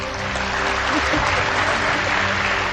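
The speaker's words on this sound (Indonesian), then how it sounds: "Tepuk tangan." An audience at a grand final pitching event applauds the 20 best innovators, a dense, even wash of clapping that holds steady throughout with a faint crowd murmur underneath.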